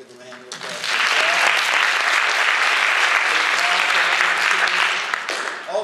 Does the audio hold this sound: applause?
yes